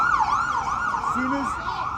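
An ambulance siren wails in a fast rising and falling sweep on a New York street in Flushing, loud and steady throughout, with a short lower tone briefly underneath.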